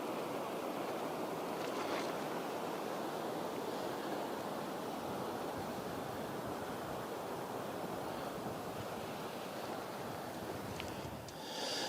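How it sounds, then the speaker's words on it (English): Sea surf at Land's End, Cornwall, roars as a continuous broadband wash of breaking waves, steady and fairly distant, with some wind noise over the microphone and no voices. "Just listen to that sea."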